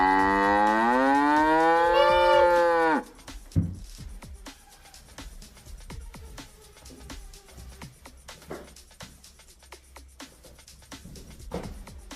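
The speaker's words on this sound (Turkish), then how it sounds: "İnek geldi." A cow gives a long, loud moo close by, its rich harmonic call lasting about three seconds, then fading into quieter rustling and scattered knocks in a residential housing complex.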